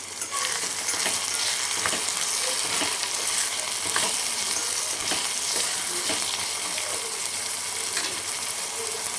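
Lemon and whole green chillies frying in a pan while being stirred, a dense steady hiss of hot oil with scattered soft scrapes of the spoon throughout, close and continuous, with no talking.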